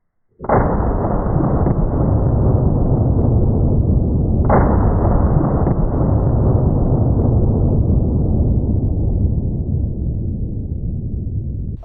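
Two loud, sharp shotgun blasts from Brenneke Magnum Crush 3-inch 1.5-ounce slugs fired at a cinder block, each a sudden close crack followed by a long rolling echo that fades slowly outdoors, no talking.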